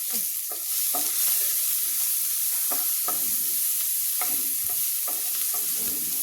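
Onions frying in a pan give a steady sizzle, broken by repeated short scrapes and clicks as they are stirred.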